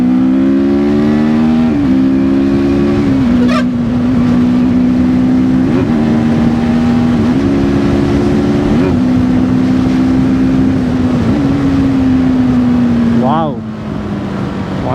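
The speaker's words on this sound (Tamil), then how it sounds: "இப்போ வந்து நான் ஃபிஃப்த் கியரில் இருக்கேன் ஸோ தேர்ட் கியருக்கு வந்துக்கிறேன் ஒரு புஷ் பண்ணி பார்க்குறேன்" A TVS Apache RTR 310 motorcycle pulls hard in third gear, its engine whine climbing steadily with brief dips at each shift, loud and close, ending with a sharp drop-off near the finish.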